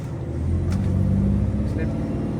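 A Scania 770S semi truck engine at full throttle gives a loud, steady low-pitched drone and rumble throughout, in a cab setting with snow falling.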